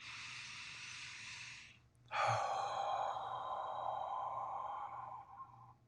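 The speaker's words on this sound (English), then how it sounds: "let's take some deep breaths in through the nose, out through the mouth" Slow deep breathing during a guided meditation, a long airy exhale trailing off, a short pause, then a fuller breath with a low hum, close and steady with no talking.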